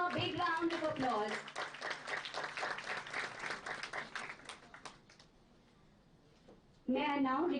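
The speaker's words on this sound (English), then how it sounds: "please give him a big round of applause." Audience applause at an international management conference: a dense burst of clapping from a large crowd, loud and sustained for about five seconds, then fading out to quiet before a voice speaks.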